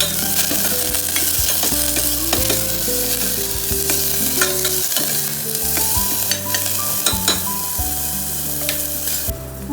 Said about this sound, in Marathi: कांदा घालेल, छान परतवून घेईल.